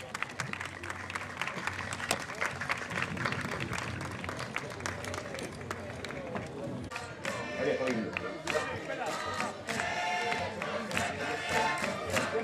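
Audience at a folk festival in Loures clapping steadily and loudly throughout, a dense wash of applause with crowd noise and some voices mixed in.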